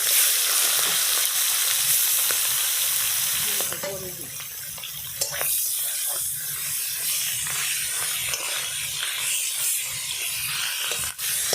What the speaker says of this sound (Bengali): তেল গরম হয়েছে, মাছ দিয়ে দিই।